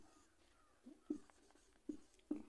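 Chalk or marker writing on a classroom board during a lesson, a few short scratchy strokes in quick bursts, close and quiet, with no one speaking.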